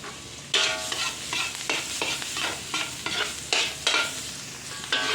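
Pork belly frying in a pan as garlic goes in, a steady sizzle broken by repeated louder bursts of stirring and scraping, close and busy with no voices.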